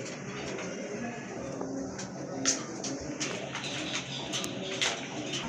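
Snake-eye pigeons kept in a pigeon seller's coop, cooing repeatedly in soft throaty bursts at close range against a steady background hum, with scattered sharper calls.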